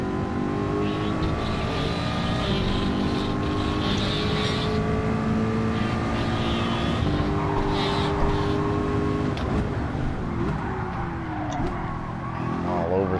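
A loud, steady race car engine drone in the video game Gran Turismo 7, during an eight-hour Daytona race, with harsh, buzzing chainsaw-like harmonics, continuous throughout with slight pitch shifts.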